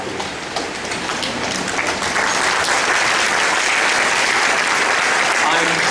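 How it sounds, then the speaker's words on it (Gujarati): An audience at the inauguration of an acting school in Gandhinagar claps loudly and continuously after a ceremonial lamp lighting. The dense clapping rises slightly and holds steady for several seconds, with no clear speech. "તાળીઓથી વધાવીએ."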